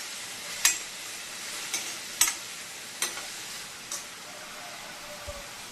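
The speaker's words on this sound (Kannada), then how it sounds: "ಹೀರೆಕಾಯಿ ಬೇಗ ಫ್ರೈ ಆಗ್ತದೆ ಕೂಡ ಮತ್ತು ಮೆತ್ತಗಾಗ್ತದೆ ಕೂಡ" Chopped ridge gourd fries in a pan of oil with a soft, steady sizzle. Several sharp scraping stirs punctuate it at intervals of roughly a second.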